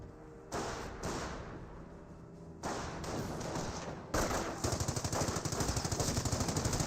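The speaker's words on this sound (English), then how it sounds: "30 cal emplacement now firing away against the Panzer Grenadiers" A .30 cal machine gun emplacement fires in the World War II strategy game Company of Heroes, opening with short separate bursts, then settling into a loud, rapid, steady stream of shots.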